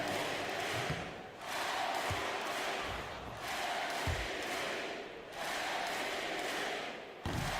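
Home crowd in an NBA 2K25 basketball game roaring as Jayson Tatum's team closes out a win, a dense, steady wall of cheering that swells and dips in waves with a few thumps underneath.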